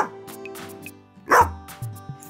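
A single sharp dog bark rings out close by on a cruise boat, followed by a few softer yips and whimpers in a quiet setting.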